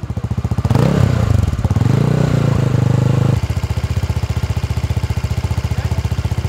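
A Norbster 500 hybrid motorcycle runs nearby at a motorcycle show, its engine rising in a loud rev before dropping back to a steady, rapid thumping idle.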